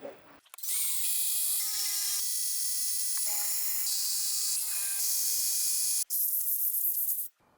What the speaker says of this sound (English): Now I just got to drill the rest of them.